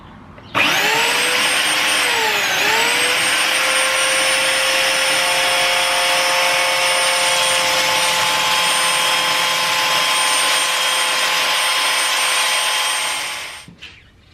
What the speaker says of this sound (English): let the sanding begin.